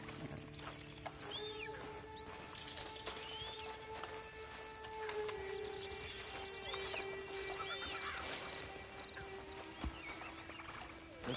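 A horse whinnies faintly amid a steady Red Dead Redemption 2 Online soundscape, with soft hoof clops and a low continuous background drone.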